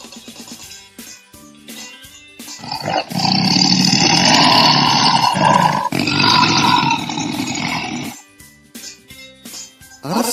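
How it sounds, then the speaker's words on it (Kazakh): A lion lets out a deep, loud roar that builds, swells for several seconds and breaks once in the middle, set against light background music that comes before and after. "Арыстан."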